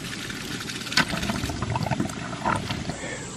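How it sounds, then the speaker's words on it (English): Water and air bubbles gushing out of a waterfall ram pump's drive pipe, a steady turbulent splashing and gurgling with a few louder bursts, close and continuous throughout. "While those air bubbles are coming out of that drive pipe"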